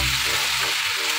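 Prawns and potatoes sizzle in oil in a pot of Bengali prawn curry with a little added water as they are mixed together. The frying hiss is loud and continuous, and a low scraping of the stirring shows underneath.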